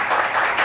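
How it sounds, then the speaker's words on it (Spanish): Strong, close applause from an audience at a university presentation of a sound archive, a short dense burst of clapping. "Así que recibámosla con un fuerte aplauso."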